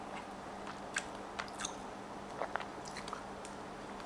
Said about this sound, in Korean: 일단 좀 먹을게요